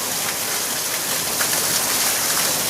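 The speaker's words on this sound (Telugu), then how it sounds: "కాకపోతే చాలా గట్టిగా పడుతుందండి వర్షం." Heavy rain pours steadily on a home terrace and garden in Rajahmundry, a dense, loud, even hiss of drops hitting the ground and surfaces throughout, with no voices.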